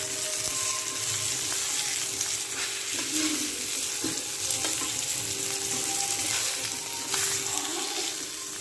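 Fish frying in a pan of oil, a dense steady sizzle with bubbling crackle heard close and loud, broken by occasional soft knocks from turning the pieces.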